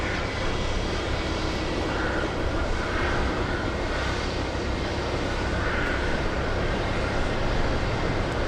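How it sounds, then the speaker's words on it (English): Alaska Airlines jet inbound from San Francisco arriving at Boston Logan, a steady broadband engine roar that stays loud and constant throughout, with no voices. "We have Alaska Airlines flying in from San Francisco. Alaska 356."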